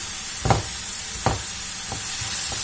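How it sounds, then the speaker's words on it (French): Onion and bell pepper sear in a hot pan with a steady sizzle throughout, broken by a few sharp scrapes of stirring. "l'oignon et le poivron ils vont être saisis directement"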